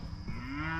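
Mashona cross calves moo on a farm, one long rising bellow held close and loud, alone without talk.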